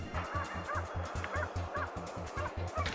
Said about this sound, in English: my hunting dog suddenly started barking loudly